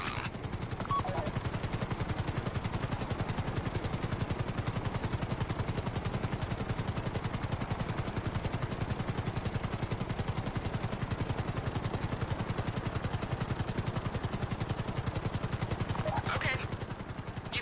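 A helicopter flies in the video game GTA V, its steady rotor chop pulsing loudly and evenly for the whole stretch with no talk over it.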